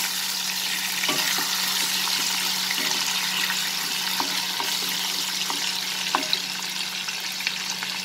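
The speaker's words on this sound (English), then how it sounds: "We'll add the ginger garlic paste. Just saute it for few seconds." Ginger garlic paste sautéing in a pan for a chicken kofta curry, a steady, even sizzle and frying hiss with faint scattered stirring clicks, sounding close and alone with no voices.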